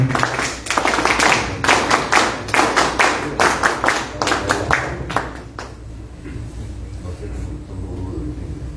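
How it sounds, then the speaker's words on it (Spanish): Sharp, close handclaps ring out in a quick steady rhythm at a farming proposals forum, about a dozen and a half evenly spaced beats before stopping abruptly, leaving only a low background hum. "Fuertes palmas, por favor"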